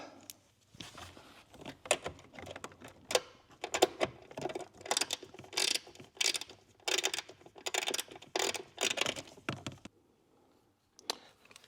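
A fastener on a Civic Type R mirror install is tightened by hand with a ratchet, producing a long run of quick, quiet clicking bursts close by, ending in near silence.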